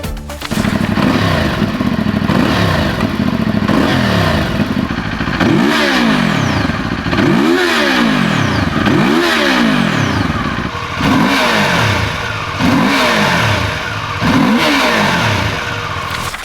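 BMW, CFMoto and QJMotor A2 twin-cylinder trail motorcycles rev repeatedly up close, a series of about ten sharp rising-and-falling throttle blips, loud and rhythmic over steady idle, with no talk.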